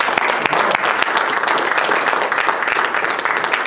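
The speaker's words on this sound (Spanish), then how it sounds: "Dale un fuerte aplauso a nuestro Dios." Steady, thick applause from a church congregation, with many hands clapping at once at an even, close level.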